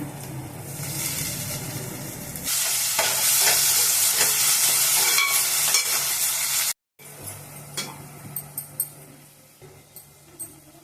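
Curry leaves, green chili and mint hit hot oil for a mutton curry, setting off a loud bright crackling sizzle that fades, then a brief silence and softer frying with clinks and stirring scrapes.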